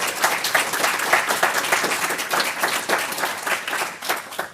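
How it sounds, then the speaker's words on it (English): A conference audience at a tech event applauds in a sustained, dense wash of many hands clapping together, steady and fairly loud throughout with no voices standing out. "So a round of applause for all of our sponsors and speakers."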